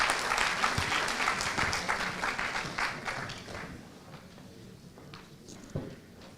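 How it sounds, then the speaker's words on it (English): Conference audience applauds speakers being invited on stage, a dense burst of clapping that gradually thins and fades over several seconds, with a few scattered claps lingering near the end. "Can we please have a round of applause for our esteemed speakers as we invite them on stage?"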